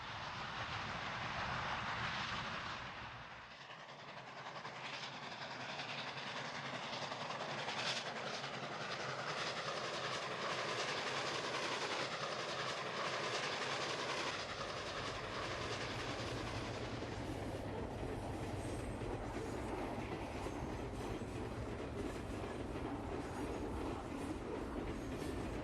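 A brass Samhongsa R2 articulated model locomotive hauls a heavy freight train through a curve and yard, giving a steady, close rolling rumble and clickety-clack of wheels that runs without a break the whole time, with no talk.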